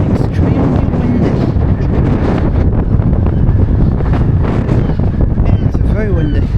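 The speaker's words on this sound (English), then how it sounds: "It's very windy." Gusty wind on Blackpool's seaside promenade, a loud constant rush and rumble battering the microphone from start to finish.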